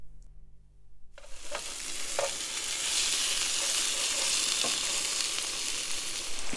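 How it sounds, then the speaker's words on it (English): Steak searing in a cold-started pan at a campsite, a steady loud sizzle that rises after about a second of quiet and holds continuously, with a few faint clinks of a utensil. "you put a steak in a cold pan and flip it every minute"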